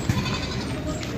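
A long-haired Jafarabadi goat, a pregnant doe about three to three and a half months along, bleats at a livestock market, one short cry early on over a steady background hum of the crowded market.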